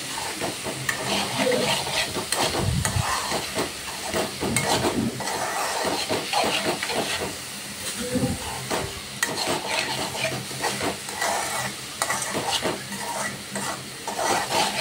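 Carrot halwa being stirred in a pan, with steady scraping and stirring strokes over a soft background sizzle, close and continuous, with occasional clinks of utensil against pan.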